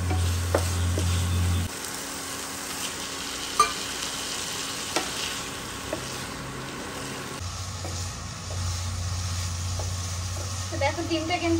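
An egg fries in a pan with a steady, close sizzle, interrupted by a few light clicks and scrapes of a utensil against the cookware.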